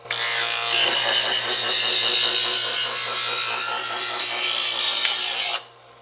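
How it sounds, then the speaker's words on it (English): A knife blade is drawn through a guided sharpener from edge to heel, giving a loud, continuous bright rasping scrape with a fine rapid ribbed texture that lasts about five seconds and then stops abruptly. "I'm just letting the blade go through the sharpener up to the heel of the blade"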